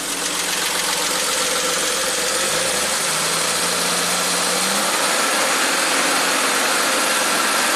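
A 1967 Triumph GT6 engine idling close by, a loud, continuous mechanical drone with a steady low rumble that dips slightly partway through, with no talk over it.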